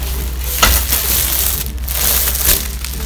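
Styrofoam packaging from a rotating makeup rack order is handled up close, giving loud crunching, squeaking crinkles with a few sharper cracks, and no voices.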